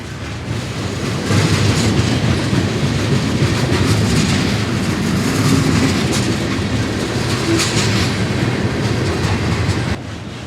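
CSX manifest freight train bound for Hialeah Yard rolling past on the rails, with a steady continuous rumble and wheel clatter holding at close range for about nine seconds before fading abruptly.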